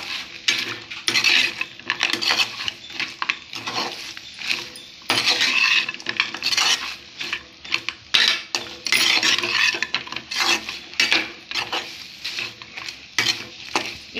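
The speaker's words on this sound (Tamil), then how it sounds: "நல்லா மிக்ஸ் பண்ணும் இந்த கிரேவி வந்து இந்த இட்லியோட" A spoon stirs chilli idli and gravy in a pan, giving continuous close scraping and clinking of metal on the pan over a faint sizzle, with no talking.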